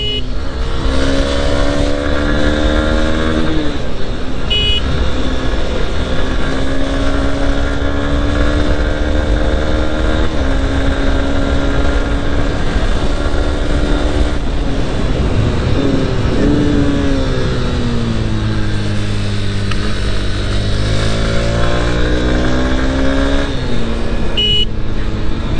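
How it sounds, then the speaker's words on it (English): Honda Hornet 2.0 motorcycle engine with induction roar, loud and continuous, rising and falling through repeated accelerations and gear changes over a steady wind rush. "Really like the sound that's coming out from the engine,"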